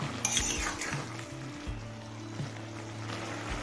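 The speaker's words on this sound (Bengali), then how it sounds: "এবার একটু নাড়াচাড়া করে নিচ্ছি" Cooked mixed vegetables being stirred in a pan for a spicy vapa puli pitha filling, with soft scraping and faint clinks of utensil on metal over a steady low hum.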